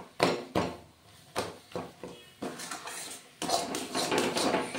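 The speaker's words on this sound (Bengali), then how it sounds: "এটা দিয়ে খুব অনেকক্ষণ নাড়াচাড়া করব" A spoon knocks and scrapes in a pan while amla chyawanprash is stirred, with sharp metallic clacks at irregular intervals and a rougher, denser scraping toward the end.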